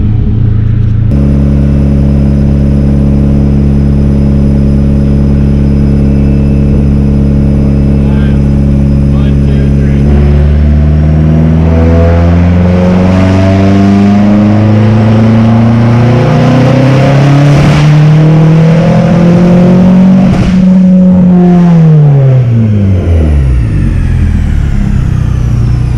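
Turbocharged SRT-4 engine on a dyno pulling in fourth gear, a loud steady drone that climbs smoothly in pitch through a long rev run, then drops sharply as the throttle closes.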